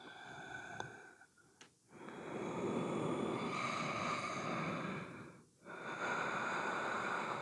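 Slow, deep breaths during a yoga hip-opening pose, heard close and fairly quiet as long airy inhales and exhales separated by brief pauses.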